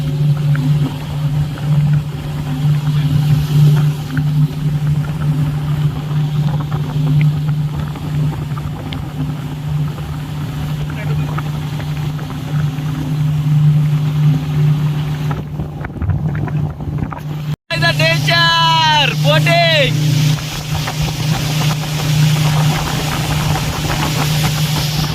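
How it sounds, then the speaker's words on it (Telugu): Steady engine drone of a motorboat on a tourist boat ride in Munnar, a constant low hum with wind buffeting the microphone throughout, a brief dropout near the end, and a few high whistling tones after it. "ఫైనల్గా మనం ఇప్పుడు బోట్ జర్నీ అయితే స్టార్ట్ చేసాం"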